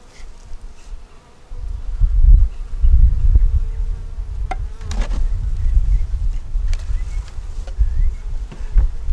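Honeybees buzzing steadily during a single nuc hive inspection, a dense low drone close at hand with occasional knocks and clicks from handling frames.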